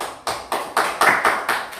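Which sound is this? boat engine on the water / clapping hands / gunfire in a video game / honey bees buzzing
clapping hands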